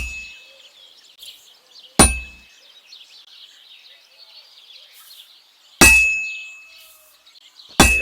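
Hammer blows ringing on heated metal at an anvil in the game Kingdom Come: Deliverance II, three sharp metallic clangs spaced a few seconds apart, each with a bright ringing decay, over a faint background.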